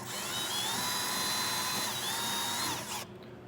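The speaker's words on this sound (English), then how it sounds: "I'm just going to drill this out to 5/16." A power drill bores out a license plate hole to 5/16 inch on a 2019 Ram, fitting a Firestone Coil-Rite rear air helper spring stem; a steady, loud whine runs close and continuous for about three seconds, then cuts off.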